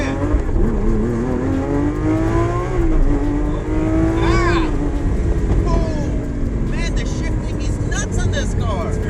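A Lamborghini Aventador SVJ engine revs hard, rising and falling in pitch through several loud bursts before settling into a throaty idle.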